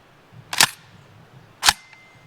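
A Nova NAK-9R 9mm AK-pattern rifle from Cugir, Romania fires S&B 124 grain ammunition in two sharp separate shots about a second apart, loud and close outdoors, with no talking.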